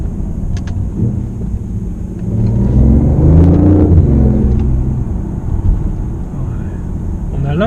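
A BMW i8 heard from inside while driving, a low engine rumble that swells louder mid-stretch then eases back, with steady road noise and a faint high whine throughout.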